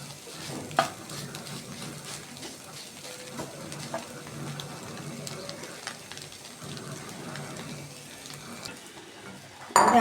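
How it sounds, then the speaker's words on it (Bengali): Minced meat fries in a pan for a savoury pitha filling, giving a continuous crackling sizzle with light scraping stirs and an occasional louder tap, no voices. "এবার আর একটু ভেজে নেব।"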